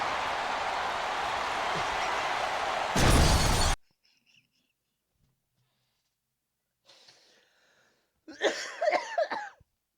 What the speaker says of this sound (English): It's the shattering sound effect.